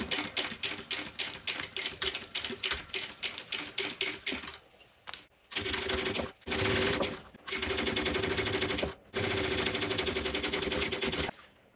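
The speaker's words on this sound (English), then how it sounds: "I am making sure that I am back stitching just before I get on the foam" A sewing machine back stitching on a foam tote bag, first in quick rhythmic bursts of stitches, then in longer continuous runs broken by short pauses, close and steady.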